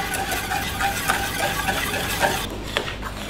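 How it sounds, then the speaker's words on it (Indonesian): A spoon stirs a boiling, thickening mixture in a pot on a stove, giving a steady scraping, bubbling texture with soft utensil clinks close by. "Lalu masak sampai mendidih sambil diaduk-aduk."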